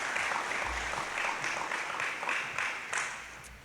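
Audience applause at a high school senior awards event as athletes thank their parents, a soft, steady patter of many hands at some distance.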